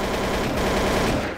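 Rapid gunfire from the Counter-Strike Source video game, a dense burst of loud shots filling the whole moment with no voices over it.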